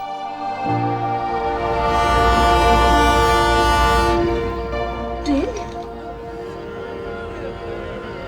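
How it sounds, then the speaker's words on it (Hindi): An approaching train in a horror TV drama sounds a loud, sustained multi-tone horn over a swelling rumble, which then fades as a brief squeal rises near the end. "ये ट्रेन अब तक मरी नहीं, फिर से चल पड़ी। पास आ रही है, ये ट्रेन पास आ रही है"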